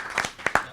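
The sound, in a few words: audience applause at a board meeting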